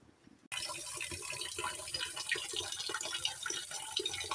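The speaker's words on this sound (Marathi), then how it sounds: "चला तर मग आता बांगडे स्वच्छ धुवून घेऊ" Tap water runs steadily over fresh mackerel (bangda) being rinsed clean at a kitchen sink, a constant close gushing splash that starts abruptly after a brief quiet moment and continues without talk.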